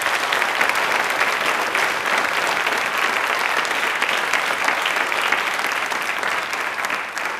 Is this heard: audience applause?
yes